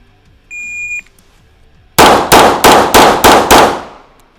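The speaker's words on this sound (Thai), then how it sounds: "อันนี้ระยะประมาณ 10 เมตรนะครับ ในการยิง6นัดนะครับ" Six sharp pistol shots fired in quick succession at a target about 10 metres away during IPSC practice, loud cracks each with a short decaying tail, preceded by a brief electronic beep from the shot timer.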